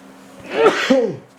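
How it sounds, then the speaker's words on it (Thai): One sneeze, sharp and close, during an ear-cleaning session; a voice-like rise and burst in a quiet room with a faint hiss behind it. "อุ้ยจะจาม"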